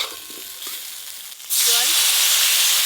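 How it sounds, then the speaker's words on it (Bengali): Water poured into a pan of frying spices with chopped green chillies hits hot oil and bursts into a loud, steady sizzle and hiss that keeps going after the initial splash, after a quieter stretch of cooking noise. "এবার জল দিয়ে দেব।"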